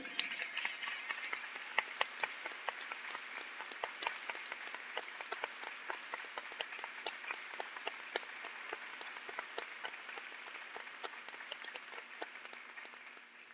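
Applause at an Ash Wednesday Mass, a long, faint patter of many hands with distinct individual claps standing out, steady throughout before tapering slightly at the end.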